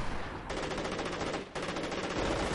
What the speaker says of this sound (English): Panzer Grenadier Squad just got sniped by the 2 snipers, just absolutely destroyed it